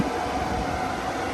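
A passenger train pulls out of a station on the line between Low Moor and Batley in West Yorkshire, giving a steady, fairly loud rumble with broadband hiss and no voices.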